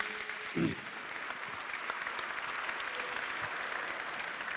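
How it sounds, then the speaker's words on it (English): Sustained applause from a crowd, a steady wash of clapping that continues at an even level throughout. "Please have a round of applause just to start with some energy for the speakers."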